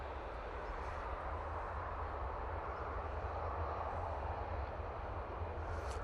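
A plane arriving at Manchester Airport, a steady broad distant roar of jet engines held at an even level throughout, with no voices.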